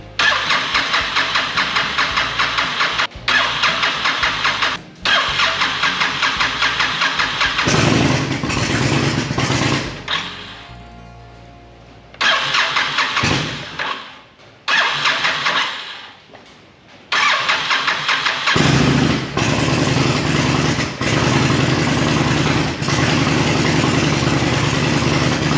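Honda VTX motorcycle, a broken bike with only a little gas in the carb, cranking with rapid starter chatter, catching and revving, cutting out, then restarting and running in loud, close bursts.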